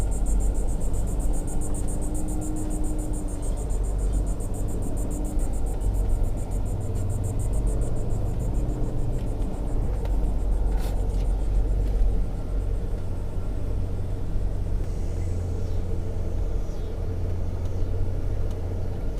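A 4x4 vehicle drives slowly along packed beach sand. A continuous low engine rumble holds steady throughout, with road noise close up and no clear changes in speed.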